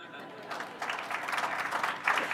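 An audience at a business mentoring network's inaugural lunch applauds, starting sparse and building into fuller clapping from a moderate-sized crowd with some murmuring voices.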